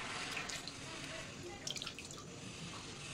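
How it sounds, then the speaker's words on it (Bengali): Roasted eggplants rinsed under running water, a steady close hiss of flowing tap water with a few splashing drips, fairly quiet. "আমি একটু জলে ধুয়ে নেবো।"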